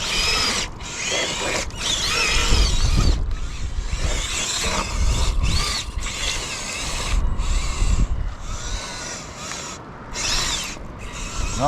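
A 1/16 FTX Ranger XC RC crawler's drivetrain whines and clatters in fast, jittery bursts with rapid ratcheting mechanical sounds and short gaps as it runs through mud after losing drive to one wheel, close and without voices.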